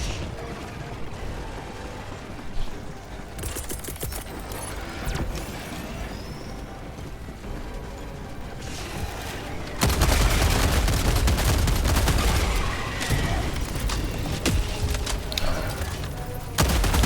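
Heavy autocannon fire in Helldivers 2 against Terminid bugs, a dense run of loud repeating shots that swells sharply about halfway through, mixed with mechanical clatter and explosions, with no talk.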